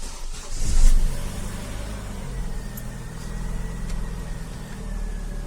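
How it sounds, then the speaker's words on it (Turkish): A 1.4-litre car that had not run for four or five days cranks and starts after its upstream manifold oxygen sensor was replaced and a P0135 fault code cleared. It catches with a brief louder surge, then settles into a steady idle. "arabamızı çalıştırıyoruz"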